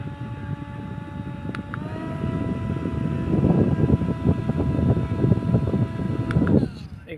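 Small rechargeable electric mini fan running at high speed, a steady whirring hum with a whistling tone that swells louder midway, then abruptly cuts off near the end.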